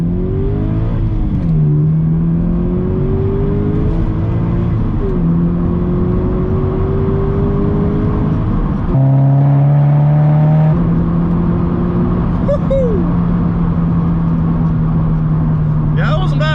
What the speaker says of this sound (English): here goes a nice little pull with new exhaust